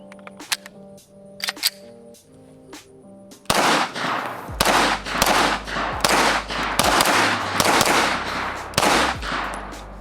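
Beretta APX A1 handgun fired in a run of sharp, loud shots after a few lighter clicks, the reports coming in quick succession at close range.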